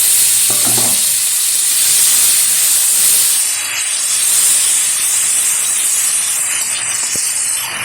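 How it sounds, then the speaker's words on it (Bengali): Chopped tomato hits hot oil seasoned with black cumin seeds, a loud, close, hissing sizzle that holds steady throughout, with a brief scrape of stirring early on. "ভালোভাবে টমেটোটা তেলের সাথে ভেজে নেব"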